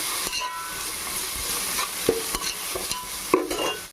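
Ginger garlic paste fries in a pan with a continuous sizzle broken by sharp clinks and scrapes of a spoon stirring it, close and clear, with no one speaking.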